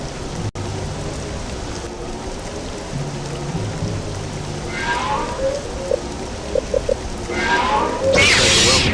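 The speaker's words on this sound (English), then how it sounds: "This rain's like acid." Heavy rain pours steadily in a Star Wars Jedi Knight academy level, a dense constant hiss with low rumbling, occasional creature cries and a louder gust near the end.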